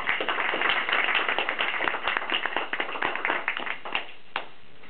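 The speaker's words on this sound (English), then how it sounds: "And I think they deserve a round of applause for putting on such a good show." A city council meeting audience claps in a brief round of applause, a fairly faint patter of many hands that thins out toward the end.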